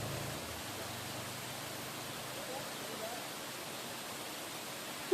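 Steady broadband rush of a waterfall in Kodaikanal, constant and fairly faint, filling the whole stretch with an even wash of falling water and no clear voices.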